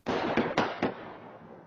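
Three quick gunshots in a Chicago suburb during a rolling shootout pop in close succession, followed by a reverberant tail fading out over an otherwise quiet background.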